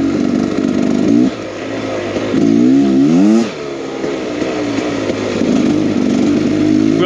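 A 2023 Beta X Trainer 300 street-legal dirt bike is ridden through a riverbed. Its two-stroke engine buzzes loud and close, revving up and down in several surges with brief dips between them.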